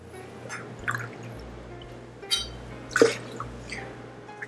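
Water and orange juice go into a foam siphon bottle, producing scattered drips and small splashes over a low background hum.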